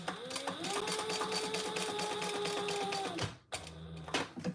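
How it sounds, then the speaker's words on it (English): Sewing machine stitching the bottom edge of a fabric trifold wallet, a steady close whir with a rising-then-level motor tone for about three seconds, stopping abruptly, then quieter handling noises. "now we're just going to sew the bottom"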